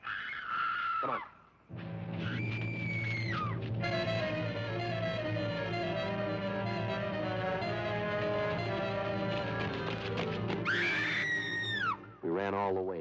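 Screams carry across a lake in a 1967 film: high, wavering cries burst out at the start and again near the end, with a dense, sustained tonal backdrop between them.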